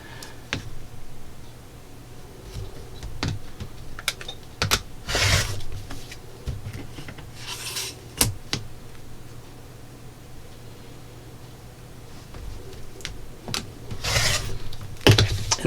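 Rotary cutter slicing through sewn fabric strip sets into 6-inch squares, with a series of sharp rasping strokes and rubbing passes at close range, recurring irregularly over a quiet background.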